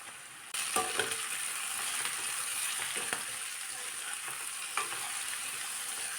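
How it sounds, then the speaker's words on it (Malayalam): Vegetables for a vegetable biryani fry in a pan with a teaspoon of salt added, giving a steady close sizzle with a few scraping stirs of a spoon against the pan and no voices. "ഇതിലേക്ക് ഒരു ടീസ്പൂൺ ഉപ്പ് കൂടി ചേർത്ത് ഒന്ന് ഇളക്കി കൊടുക്കാം"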